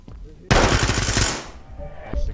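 Rapid automatic gunfire in the tactical shooter Ready or Not, a loud close burst of about a second that fades into echo, with voices talking around it.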